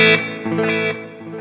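A TC Electronic Alter Ego V2 pedal in its dark Space Echo tape-delay mode carries a sustained guitar chord whose echoes smear and decay over a brief moment.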